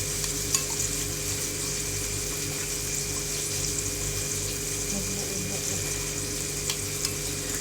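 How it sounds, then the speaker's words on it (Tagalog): Fish curry with coconut milk simmers and sizzles in a pan at home, a steady dense bubbling and frying hiss close by, with no talk over it. "Tapos, lalagay natin yung gata at saka yung isda."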